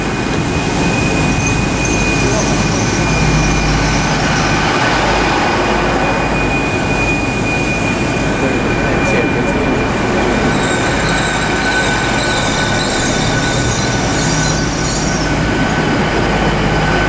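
Steady loud rumble of a Great Western Railway electric passenger train idling at an Oxford station platform, with a sustained high whine and brief squeals of wheels and brakes, no voices.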